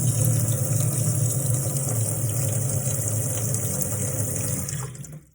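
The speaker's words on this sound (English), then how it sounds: "I have water in the sink there. Well, actually, put a bit more in." Water runs from a tap into a sink as a steady, full rush of splashing with a low background hum, close and even, then cuts off abruptly at the end.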